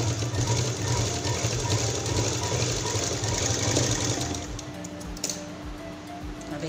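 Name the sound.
sewing machine stitching a fabric key-chain purse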